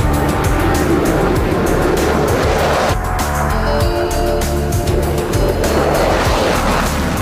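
An F-16 Fighting Falcon jet roars loudly and continuously as it accelerates down the runway, a dense, powerful engine rush with no voices.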